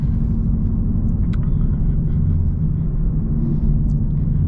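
An E85-fueled Ford Mustang GT pulls hard in second gear, its engine a loud, continuous deep rumble heard from inside the car, steady and unbroken with a few faint higher tones above.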